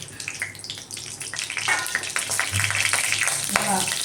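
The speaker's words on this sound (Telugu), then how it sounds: "ఇప్పుడు మనం ఇది నూనె వేడెక్కింది కదా, ఇందులో ఇందాక పెట్టాం కదా మసాలా దినుసులు, అవి ఇందులో వేసేస్తాం పూర్తిగా" Whole spices tip into hot oil and crackle with a scattered, bright sizzle at close range, running under a person talking throughout.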